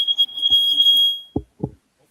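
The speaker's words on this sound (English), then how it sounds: "someone's fire alarm is going off" A household smoke alarm going off, a loud, piercing steady tone that holds for over a second before cutting out, followed by a couple of short knocks.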